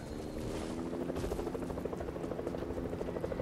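A steady helicopter rotor drone with rhythmic thumping, loud and continuous, from the video game Squad.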